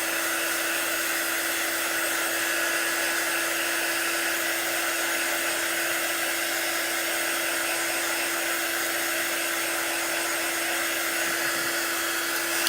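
A hair dryer blows a loud, steady whoosh with a constant motor whine, drying a freshly painted Halloween pumpkin block up close, uninterrupted throughout.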